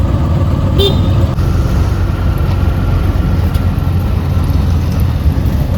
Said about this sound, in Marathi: गाडी आलेली आहे.